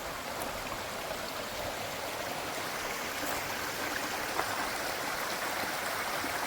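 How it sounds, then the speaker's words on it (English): Small creek on the Rogue River Wild and Scenic Trail near Bronco Creek, flowing in a steady, broadband wash of water that stays even and fairly close throughout, with no voices. "Pretty little creek."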